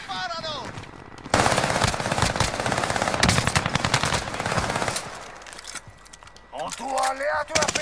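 Rapid automatic gunfire in a Call of Duty Warzone match, with loud, close bursts of shots for several seconds, then quieter moments and an Italian-speaking voice over the game sound.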